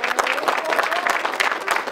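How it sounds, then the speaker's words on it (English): A crowd clapping for someone being sent off, dense and close, with a lively, uneven texture of many hands and faint voices mixed in. "Y'all clap it up for him."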